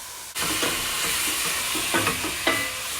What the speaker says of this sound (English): Just pop that in a tablespoon of oil and 200 grams of chopped mushrooms.